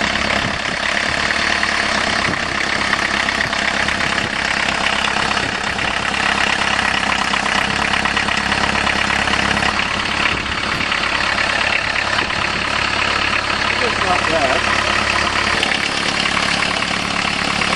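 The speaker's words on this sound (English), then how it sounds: "Definitely a cold sounding diesel to me." A 1990 diesel caravan engine idles after a cold start in January, a loud, steady clattering rumble heard up close for the whole stretch, with no talking.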